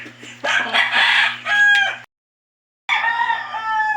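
A Tasmanian Blue gamefowl rooster crows loud and close, a full cock-a-doodle-doo with clucking before it, then the sound cuts out and a second crow follows.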